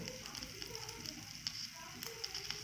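Slit green chilies roasting in hot oil, a soft steady sizzle with scattered small crackles and pops, fairly quiet and close.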